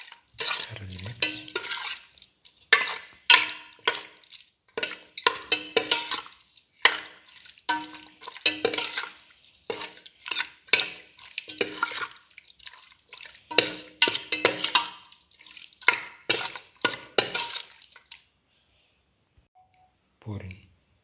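A spoon stirs a cinnamon, parsley and beef liver mixture in bursts of clinking, scraping strokes, with short pauses between rounds and near silence at the end.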